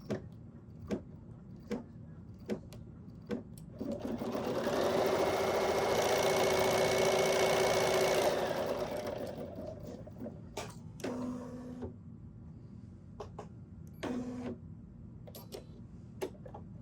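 A BERNINA sewing machine stitching a straight quilting line hums steadily for a few seconds, framed by scattered mechanical ticks and clicks, close by with no voices.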